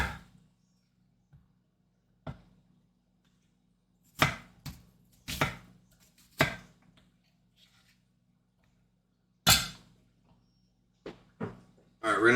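Onion is chopped on a board in a home kitchen, heard as scattered sharp knife strikes in short irregular bursts, fairly close, with quiet gaps between them.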